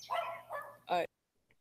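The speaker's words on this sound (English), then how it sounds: "I was talking to the neighbor's dog." A neighbor's dog gives a short, close bark right after a person's speech, then the clip falls quiet.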